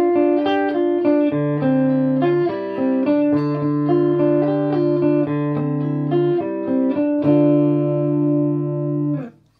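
Clean electric guitar tone on the neck pickup of a newly assembled guitar, played as a melodic run of plucked single notes and chords with ringing sustain, loud and close, ending with a quick fade.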